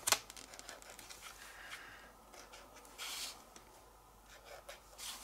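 A 1.3 bullet nib pen drawing white dashes on paper, with faint, soft scratching strokes in a quiet room.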